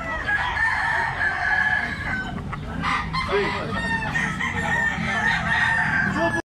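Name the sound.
young gamecock (stag) crowing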